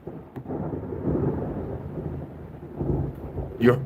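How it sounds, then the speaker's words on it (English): Thunder rumbles through an Arizona thunderstorm with rain, a low rolling roar that swells twice, and a brief voice sounds near the end. "It's thundering and lightning in right now in Arizona."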